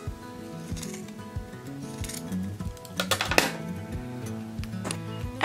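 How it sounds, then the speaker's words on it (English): Sharp, close snips of scissors trimming tassel threads, several quick clicks in an uneven rhythm with faint metallic clatter, no voices. "take your scissors, put it through the center, and pull these tight, and then go ahead and trim"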